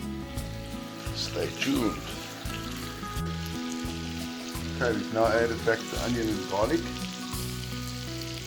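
Prawns and chicken sizzle and crackle in a hot pan as they are stir fried for paella, a steady frying hiss under a person talking.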